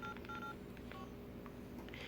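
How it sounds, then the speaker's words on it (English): Several short electronic keypad tones from a mobile phone, the same beeps as the Motorola W260G, beep in an uneven sequence, clear and close, over a low steady background hum. "Uses the same beeps as the Motorola W260G"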